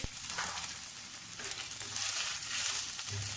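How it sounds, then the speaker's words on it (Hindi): Onion, ginger-garlic paste and mixed vegetables frying in a pan for chicken Albela, a faint, continuous sizzle with a few soft stirring touches and no voices. "ब्लेंड वेजिटेबल्स शामिल करते हैं, इसको फ्राई करेंगे।"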